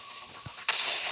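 A single sharp sniper rifle shot in the Cover Fire video game, a sudden crack that leaves a sustained ringing tail, set against steady game background noise.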